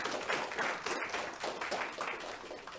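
Concert audience applauding performers after a harmony band piece, soft distant clapping from many hands that stays steady and faint, with a brief break in the middle.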